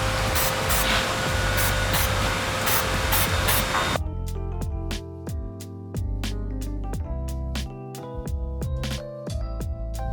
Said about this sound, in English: spray paint all these bolts black, so that way they match the fence